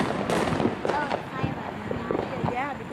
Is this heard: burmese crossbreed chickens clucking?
no